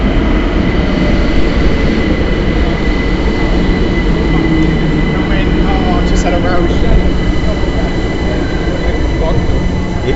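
A train passes through London with a steady, loud rumble of rolling wagons and faint wheel squeal, while someone talks briefly nearby.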